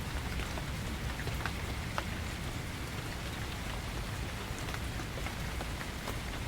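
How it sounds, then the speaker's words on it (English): Gentle rain falls in a forest as a soft, continuous patter of drops on leaves and ground. Occasional slightly sharper drips stand out against a quiet, even backdrop, with no voices present. "the slow, rhythmic descent of a gentle rain"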